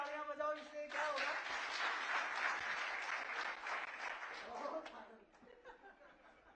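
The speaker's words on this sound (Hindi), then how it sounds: "अरे जबरदस्त तालियां बजाओ" Audience clapping at a government scheme launch event, starting after a brief voice, swelling loudly with some laughter mixed in, then fading as speech resumes.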